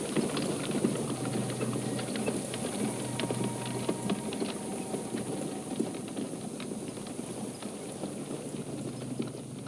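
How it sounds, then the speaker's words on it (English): Horses hauling a wagon in the video game Black Book, with steady hoof clip-clop and rattling wheels over a constant dense rumble, busy and fairly loud throughout. "You hold the horses and give a lift to several nimble guests."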